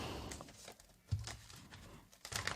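Tarot cards are shuffled by hand in a quiet room, giving soft, fluttering riffles and papery rustles close to the microphone.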